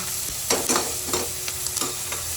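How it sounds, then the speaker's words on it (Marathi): Capsicum being stir-fried in a pan for mushroom fried rice, with a steady close sizzle and a few scraping stirs of a spatula, no talking. "तर आता आपण टाकतो याच्यात शिमला मिरची."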